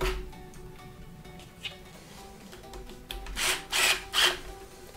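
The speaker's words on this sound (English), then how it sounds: "we're going to install them with four screws" M4 by 10 mm machine screws driven into a hoverboard with a power driver, three short whirring bursts near the end after quieter handling noise, close and fairly loud with no talking.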